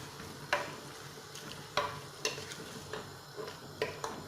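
Tomato and onion mixture sizzling gently in a pot, soft frying hiss with several sharp scraping clicks of a spoon stirring against the metal at irregular intervals, quiet and close.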